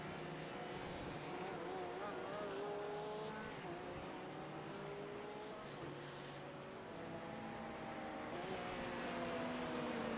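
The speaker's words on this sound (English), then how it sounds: "we kind of just have the parade of cars coming back" Several race cars from a Summit Point race cruise back in a slow parade lap, their steady engine drones overlapping at moderate volume for the whole stretch with faint gear shifts, no talk over them.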